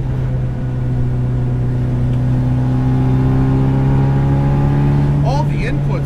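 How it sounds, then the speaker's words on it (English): A supercharged 1967 MGB GT with an aftermarket exhaust holds a loud, steady engine drone close by, its pitch creeping slightly upward, before a voice starts talking at the end. "This also has an aftermarket exhaust, so it's a little bit louder."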